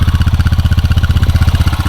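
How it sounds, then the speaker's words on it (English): A 2015–16 Honda Pioneer 500 side-by-side with a snorkel idles high at about 1650–1700 RPM, a loud, close, steady pulsing engine throb with a fast even rhythm and no talk. "you can hear it's idling a little high."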